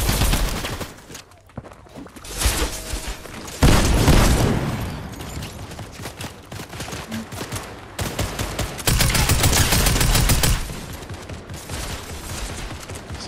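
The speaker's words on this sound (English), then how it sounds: "Still getting shot" Video game gunfire crackles in dense bursts, with loud broadband volleys breaking out repeatedly over thirteen seconds between quieter stretches and some movement noise.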